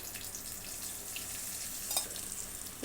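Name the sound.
green chillies, mint and turmeric frying in oil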